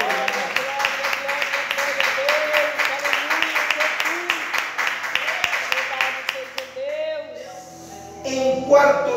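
Congregation applause for God during a church service, a dense run of rapid clapping holding steady for about seven seconds before tapering off, followed by faint tones and murmuring.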